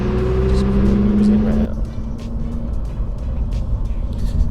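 Lamborghini STO running in wet performance mode, a low steady engine hum that drops and softens partway through into quiet cruising, with faint tire and road noise underneath.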